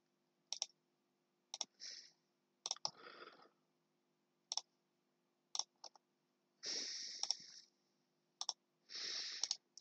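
Mouse clicks placing spline points in SolidWorks CAD software, a series of sharp, close clicks spaced irregularly with short pauses, quiet and alone in a still room.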